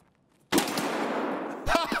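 A loud gunshot bursts out in Escape from Tarkov, its echo rolling on, then a second shot cracks about a second later, close and harsh.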